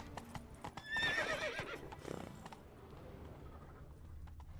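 Roach the horse neighs loudly in The Witcher 3, a bright whinny near the start over hoofbeats, then galloping clip-clop continues more quietly under ambient game sound.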